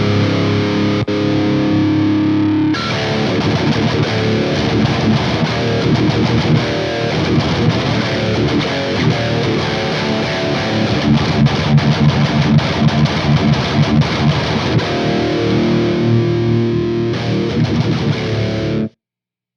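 A guitar through a Wizard MTL MK2 amp delivers a thick, heavily distorted tone, with dense riffing and sustained chords that keep a steady, loud level for nearly twenty seconds and no voices.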